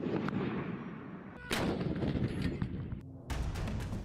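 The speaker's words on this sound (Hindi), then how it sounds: "इस लाइव फायर ड्रिल में चीनी तोप, टैंक और मिसाइलों का इस्तेमाल किया जा रहा है।" Heavy artillery guns boom during a Chinese live-fire military drill that also involves tanks and missiles, with loud broadband blasts near 1.5 and 3.3 seconds over a continuous rumbling roar of gunfire.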